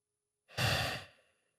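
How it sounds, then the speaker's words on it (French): A single deep breath drawn in through the nose during a calming breathing exercise, close and fairly loud, rising quickly and then tapering off alone. "Puis emmène la respiration par les narines jusque dans le bedon."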